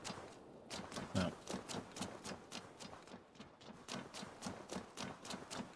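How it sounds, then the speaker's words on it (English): Horse hooves clip-clop at a steady trotting rhythm in Assassin's Creed Valhalla, close and fairly even in loudness, with no voices over the hoofbeats. "Oh yeah, I have a horse. I'm on a horse."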